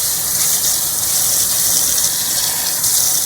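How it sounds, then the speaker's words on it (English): A steady gush of water pours onto corn for homemade creamed corn, a continuous loud hissing splash with no pauses and no voices. "Just add a little bit of corn, a little bit of water to the corn."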